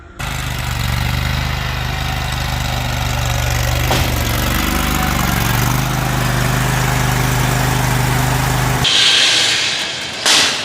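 Lawn mower engine idling and rumbling steadily up close as the mower is driven onto a trailer, loud and continuous before cutting off near the end, with no talk.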